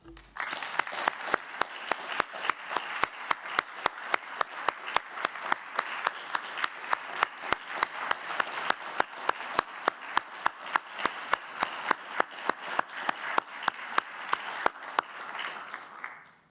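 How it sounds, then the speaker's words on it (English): An audience at a university awards celebration applauds the evening's honorees, a sustained, even wash of many clapping hands lasting over fifteen seconds with a steady, repeated rhythmic accent running through it. "Please join me in another round of applause for all of tonight's honorees."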